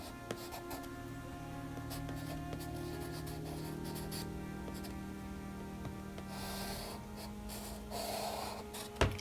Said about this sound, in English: So now we will try the hard charcoal pencil,